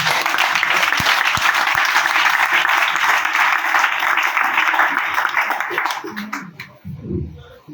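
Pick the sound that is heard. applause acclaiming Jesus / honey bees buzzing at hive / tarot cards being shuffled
applause acclaiming Jesus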